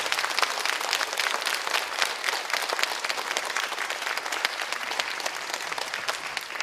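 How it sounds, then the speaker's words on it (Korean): A dense crowd claps steadily for the performers at a children's composers' concert presentation, and the loud, continuous applause keeps an even intensity throughout with no voices. "지금까지 총 29곡의 곡들을 연주해주신 연주자분들께 다시 한번 감사의 박수를 드립니다."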